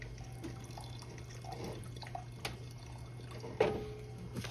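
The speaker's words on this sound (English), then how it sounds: "Pour some of this oil off of here." Hot oil is tipped off from a cast iron skillet after frying pork steak, soft close dripping and trickling over a steady kitchen hum, with a brief louder splash near the end.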